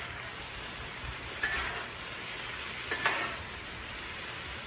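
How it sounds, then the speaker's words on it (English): Peppers and onions are stirred and scraped on a Blackstone griddle, a steady sizzle underneath with two brief spatula scrapes standing out, no talking. "We're going to mix the peppers and the onions."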